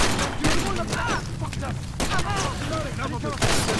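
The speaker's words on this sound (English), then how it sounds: "Wow, she shoots well." A companion character shoots in the savanna of the video game Far Cry 2, with dense, loud bursts of rapid gunfire repeating throughout, and a voice talking over the shots.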